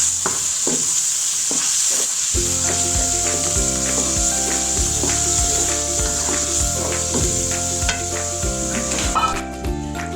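Vegetables and chopped ginger fry and are stirred in a pan for a rice-and-peas pulao, a steady sizzle running throughout with repeated scraping and stirring knocks and rhythmic tapping, close and fairly loud.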